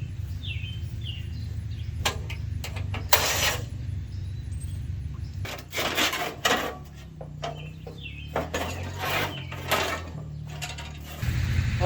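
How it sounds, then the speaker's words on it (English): Wrench work loosening the hood bolts on a 1936 Farmall F30 tractor: repeated metallic ratcheting and clinking bursts, close by, with pauses between turns and no talking. "Get them bolts loose on the hood and get it out of the way."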